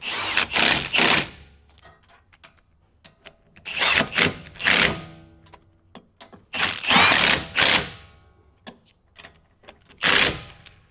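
Bursts of an impact wrench or power tool tightening down a Nissan 370Z hub during an axle install on a 350Z, several short loud runs separated by quiet pauses and small clinks.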